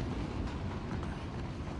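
A moving train in the video game Uncharted: The Lost Legacy rumbles as a steady, dense, continuous roar with a faint rhythmic undertone, holding even loudness throughout and heard alone without voices.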